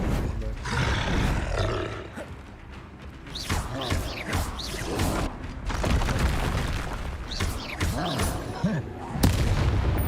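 Confringo explosive spell blasts in Hogwarts Legacy boom and roar repeatedly over game effects and music, loud bursts with crackling tails following one another across the stretch.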